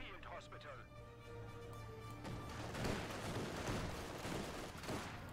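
Grenadier rifle and machine-gun fire from the Company of Heroes 2 video game, rattling as a dense, continuous fusillade of rapid shots that swells in the second half, with a commentator talking over it.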